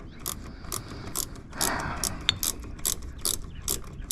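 Socket ratchet loosening a bolt on a Lexus ISF, a series of rapid clicking bursts repeating in a quick rhythm, close and crisp, with a faint metallic ping partway through.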